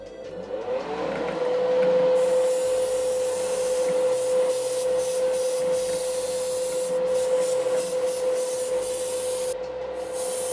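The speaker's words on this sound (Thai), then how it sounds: "เดี๋ยวเปิดพัดลมแบบแรงๆดูนะครับ" The exhaust fan of an HS-E550 paint spray booth runs on high with a steady whining hum while water is sprayed into it, loud and continuous with a hissing spray layer and no talk.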